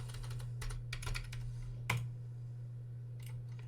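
Typing on a computer keyboard: bursts of quick key clicks in small clusters, one sharper tap near the middle, then a brief pair of keystrokes after a pause, close and clear over a low steady hum.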